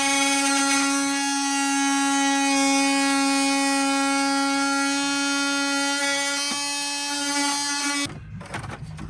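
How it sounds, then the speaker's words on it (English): A high-pitched rotary power tool whines steadily as it trims plastic dash trim to fit a switch panel in a 2009-or-later Ford E-series van. The tone holds for about eight seconds before cutting off abruptly. "Then he's going to come in and trim that plastic off so the switches fit perfectly."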